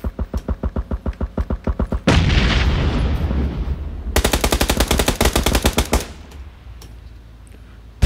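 Automatic gunfire in the battle royale shooter PUBG (Battlegrounds): a loud evenly paced string of shots, then a heavier noisy stretch, then another fast burst of shots before a quieter tail, with no talking.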